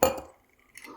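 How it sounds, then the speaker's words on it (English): Spoon clinking against a cup while stirring milk into a latte made on a Breville Barista Express BES870, a sharp close chime at the start followed by a quiet pause and a second softer clink. "I'm just gonna mix up the milk, swirl it around."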